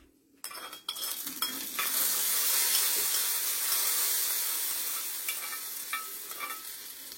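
Hot mustard-seed tempering poured into a curry leaf tambuli hits with a sudden loud sizzle that swells into a steady bright hiss, easing slightly toward the end, with no voices.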